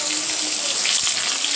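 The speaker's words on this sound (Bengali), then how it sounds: "এবার আমি বেগুনগুলো আস্তে আস্তে ছেড়ে দেবো, ছেড়ে আমি উল্টে পাল্টে পুরোটাই ভেজে নেব।" Eggplant slices sizzling in hot oil in a wok, a steady bright hiss that stays loud and even throughout the short stretch.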